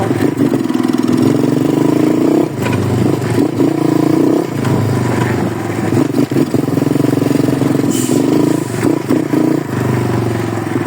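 A 125cc pit bike engine revving on a winter ride, loud buzzing mid-pitched motor that rises and falls through several throttle blips over about ten seconds, close and continuous.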